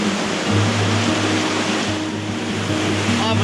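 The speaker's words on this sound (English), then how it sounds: "now it's blowing 30 knots and pouring with rain" A dense, continuous roar of heavy rain and 30-knot wind at sea on a sailing yacht off Thailand, loud and steady with a low droning hum beneath.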